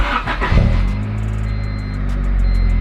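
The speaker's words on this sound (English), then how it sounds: "I'm going to start the car now so that all the coolant can really flush down inside of it" A Honda Del Sol engine cranks and catches, then settles into a steady, loud idle close by with a brief rev near the start.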